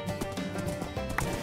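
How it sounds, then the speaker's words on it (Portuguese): Black horse galloping in the Minecraft video game, a fast steady clip-clop of hooves running loud and close, with game sounds layered over it. "O cavalo preto corre muito."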